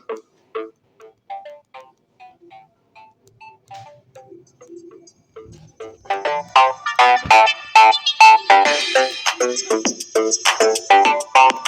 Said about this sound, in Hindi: यहाँ पर हम इन्फिनिक्स नोट 30 5G में प्ले कर लेते हैं यही वीडियो और देखते हैं।